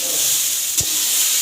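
Radish slices fry in a pan, giving a steady bright sizzle throughout with one brief stirring scrape partway, close and alone.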